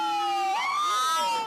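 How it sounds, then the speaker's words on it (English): An ambulance siren wails through empty New York streets, a loud, close, tonal note that slides upward partway through, with its echo bending off the surrounding buildings. "The only sound of New York hustle and bustle is the wail of the ambulances."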